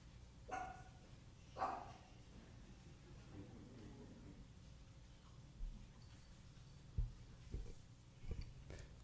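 A dog barking in the background of a live-streamed Sunday family church service, a few faint, distant, spaced barks over a quiet room.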